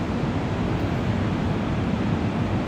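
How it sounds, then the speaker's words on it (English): Stormy ocean waves rolling onto a driftwood-strewn beach, heard as a constant dense roar of surf with wind, steady and unbroken, no voices. "you can hear the ocean."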